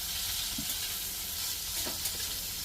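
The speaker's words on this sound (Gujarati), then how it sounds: "એમાં થોડું આ કાંદા ને જે કેપ્સિકમ સ્ક્વેરમાં મેં ચોપ કરેલા છે એ નાખવાના. એ પણ ફ્રાય કરી લઈશું." Chopped onions and square-cut capsicum fry in hot oil in a kadai, giving a steady, close, even sizzle with faint stirring clicks and no voices.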